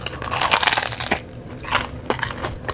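Homemade wheat chips dipped in yogurt dip are bitten and chewed close up, a burst of loud crunching followed by a few sharp crunches, with no talk.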